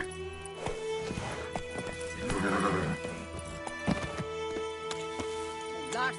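A horse gallops in the Wild Hunt video game, its close, rhythmic hoofbeats mixed with a snorting whinny over a droning background score.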